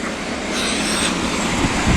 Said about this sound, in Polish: Odjeżdża pociąg Regio Kłodawka